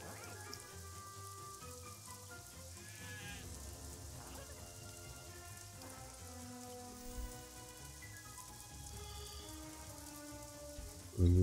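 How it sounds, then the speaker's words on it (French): Nighttime rain in the video game Craft The World makes a steady, soft patter behind layered game music tones, ending with a sudden louder thump. "C'est la nuit, il pleut, on va attendre hein."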